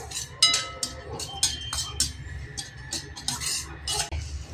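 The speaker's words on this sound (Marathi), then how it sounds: "आता भोपळ्याच्या आणि टरबुजाच्या बिया तुपावर छान परतून घेऊ" Pumpkin and watermelon seeds are stirred in ghee in a kadhai, with a spatula scraping and clinking against the metal in quick irregular strokes over a low, steady rumble, fairly quiet, with no voices.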